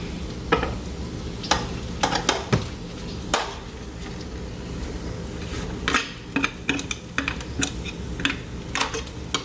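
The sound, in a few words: stirring sausage and beans frying in a pan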